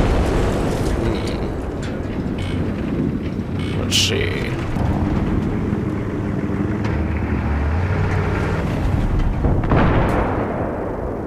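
Tank cannon fire at helicopters in the Battlefield 3 video game: steady loud rumbling combat noise with a sharp blast near the start, under excited talk.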